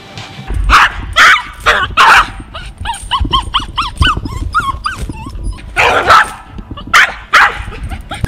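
A small aggressive Pinscher barks sharply in bursts, several loud yaps with high whining yelps between them, close by and with a faint growl.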